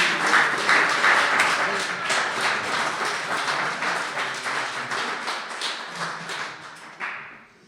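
Audience applause for honorees at an awards ceremony, a loud, close burst of many hands clapping that slowly thins and fades over several seconds.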